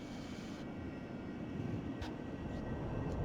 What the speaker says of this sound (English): Let's do a short field takeoff.